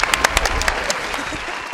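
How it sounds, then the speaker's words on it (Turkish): Applause from a small street crowd in Fethiye, a short burst of sharp, close claps that quickly thins out. "Bir alkışa bekle."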